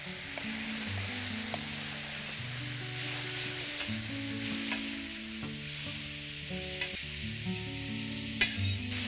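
Mustard greens cooking on a tawa with chopped garlic and chillies, a steady, fairly quiet sizzle broken by intermittent stirring scrapes and taps, near and continuous with no voices.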